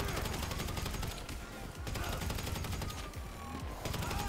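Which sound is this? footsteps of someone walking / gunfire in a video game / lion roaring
gunfire in a video game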